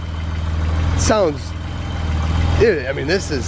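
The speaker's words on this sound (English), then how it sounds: "this might be the quietest M30 I've ever heard" A BMW E34 535i's M30 B35 engine idles with a smooth, steady low hum close by, while someone talks over it.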